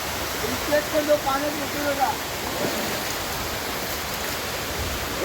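A forest waterfall at Velneshwar, Guhagar, roars nearby in a constant rushing wash, with brief voices over it at the start.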